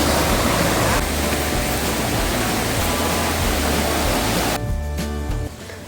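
A loud, continuous roar of rushing water from Anakkuzhi waterfall in Amboori, Kerala, dense and steady, dropping slightly near the end.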